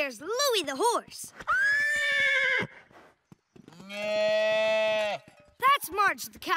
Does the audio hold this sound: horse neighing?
yes